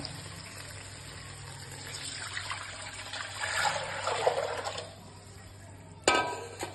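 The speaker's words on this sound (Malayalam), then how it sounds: "വെള്ളം ഒഴിച്ചു കൊടുക്കാം" Water pours into a pan of frying onions for vermicelli biryani, a soft trickle that builds into a fuller splashing rush and fades, ending with a sharp clink.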